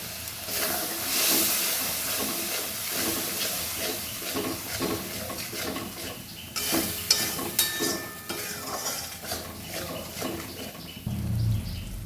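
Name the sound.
spice paste frying with a little water in pan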